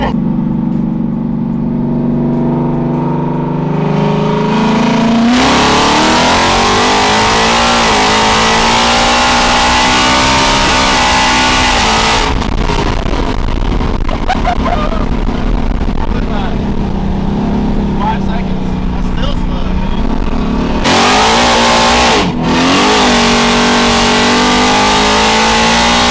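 A car with a Gen 3 Coyote engine and a Whipple supercharger accelerates hard, very loud and close, its revs climbing through repeated gear pulls with brief lifts between.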